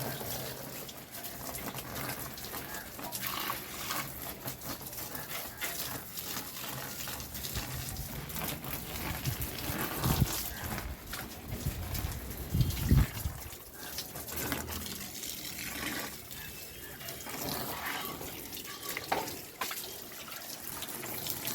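Running water pours and splashes steadily as soil is washed off the roots of a banyan bonsai, with irregular sloshing and handling sounds throughout and no clear talk.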